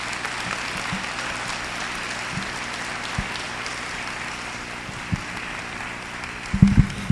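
An audience applauds at the end of a lecture by Ignacio Calderón, a sustained wash of many hands clapping with a few louder knocks and rustles near the end.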